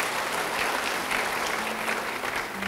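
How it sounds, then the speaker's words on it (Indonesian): A church congregation applauds during an Indonesian sermon. The clapping is dense and steady for a few seconds and fills the room on its own. "Beri tepuk tangan."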